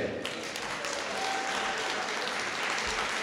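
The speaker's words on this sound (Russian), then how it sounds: "Ваши аплодисменты!" Audience applauding at the «Акустика» acoustic music festival during a diploma presentation, a steady dense wash of clapping that holds evenly from start to finish.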